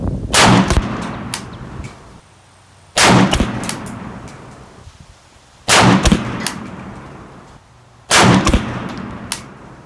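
Four loud, sharp gunshots ring out from a PSA AK-P 7.62x39 pistol, evenly spaced about two and a half seconds apart, each followed by a ringing decay and a low rumble.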